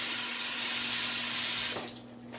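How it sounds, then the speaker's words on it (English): Tap water runs steadily from a kitchen faucet as hands are washed between steps of preparing a garlic-studded roast, a broad hiss that stops abruptly near the end, with no talk. "wash my hands."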